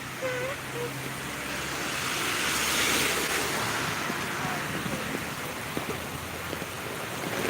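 Steady rain hisses continuously outdoors in Sai Kung, with a broad wash of noise, occasional wind rumble and faint distant sounds underneath.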